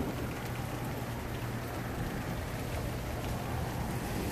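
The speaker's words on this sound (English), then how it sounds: "It's a pretty solid rain." Steady, dense rain pours down continuously, a thick hiss of drops hitting surfaces with no pauses and no voices.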